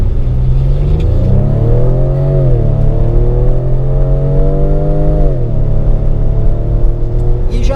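A Ford Edge ST launching hard from a standstill to 100 km/h, its engine rising through the gears in a loud, close roar, with a brief drop at each shift.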